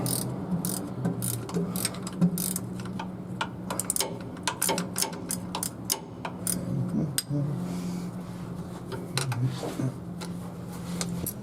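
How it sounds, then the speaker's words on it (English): Small ratcheting box wrench clicking steadily as it turns a fastener while starter trouble is worked on in a 1954 Chrysler New Yorker with a 331 cubic inch Hemi, a continuous run of close, fast clicks over low background hum. "Love these little box wrenches with the little ratchet thing on them."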